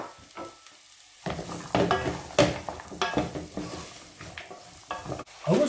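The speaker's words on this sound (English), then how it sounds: "Get some butter melting. And in with the onions and mushrooms." Onions and mushrooms fry in melted butter in a pan, a close sizzle broken by irregular bursts of stirring and scraping, with quieter crackling between the louder strokes.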